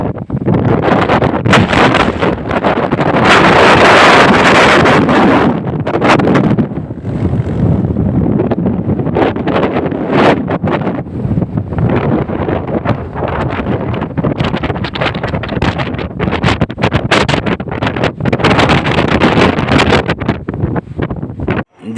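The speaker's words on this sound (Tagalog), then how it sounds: "Dinig nyo naman siguro sa video kung gaano kalakas ang hangin dito." Strong wind on a coast facing the mountains and sea of Dingalan, Philippines, roars and buffets a microphone steadily, loud gusts rising and falling with no other clear sounds.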